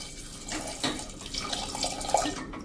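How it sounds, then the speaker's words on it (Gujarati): Water pours steadily into a metal pressure cooker holding green peanuts, splashing and gurgling briefly with no talking. "એમાં આપણે ડૂબે એટલું પાણી નાખી દેશું"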